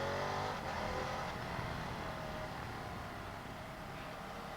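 A Ducati Multistrada V2S motorcycle engine accelerates in sport mode, a loud, steady roar whose pitch climbs and whose tone shifts as it pulls away, with no speech over it.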